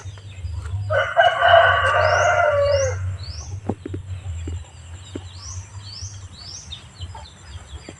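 A rooster crows once in a long, loud call close by, with faint chirping birds in the background and a low steady hum underneath.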